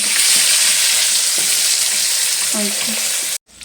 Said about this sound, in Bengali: হলুদ দিয়ে হাই আঁচে আমি আলুগুলো ভেজে নেব